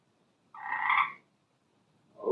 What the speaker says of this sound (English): Oh, be quiet, Frog.